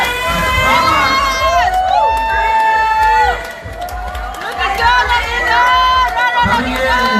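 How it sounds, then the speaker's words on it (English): Spectators at a half marathon finish cheer and shout loudly as 21K runners arrive, with high-pitched whoops and children's voices rising in waves over crowd chatter. "Everyone, please get ready to cheer for welcoming the 21K runners."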